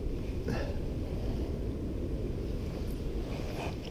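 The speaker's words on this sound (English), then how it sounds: "The wind's just going right in circles here." Gusty wind at a lakeside buffets the microphone with a steady low rumble, punctuated by a few brief swells of blowing air.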